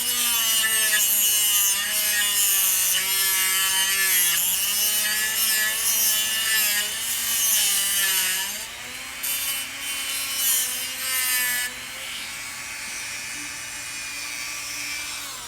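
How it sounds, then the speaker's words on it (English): A rotary tool grinds out material from the casting slot of a K-Line B6 switcher pickup roller, making a steady, loud whine with varying pitch that runs close up and alone for the whole stretch. "just go back in and grind out the rest of the material like this"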